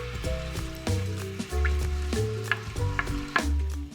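Chopped onion frying in plenty of extra virgin olive oil, a loud, continuous close-up sizzle with crackling pops and stirring scrapes throughout, with no voices.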